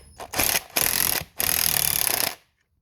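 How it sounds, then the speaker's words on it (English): An impact wrench turns a bearing puller on the crankshaft of a Stihl MS 271 chainsaw in three loud, close bursts of rapid hammering with short gaps between them. Silence follows the last burst. "I got my impact wrench ready, turn the right direction, and let's go."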